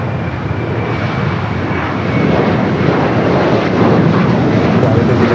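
Loud, steady aircraft engine roar at LAX airport, likely an Alaska jet taxiing, rising slightly toward the end with no talk over it.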